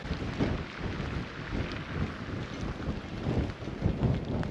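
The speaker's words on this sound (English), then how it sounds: "which one of the winds is this one right now?" Strong winter wind in Reykjavik, Iceland, buffeting the microphone in loud, gusty roaring surges that rise and fall, with no voices heard.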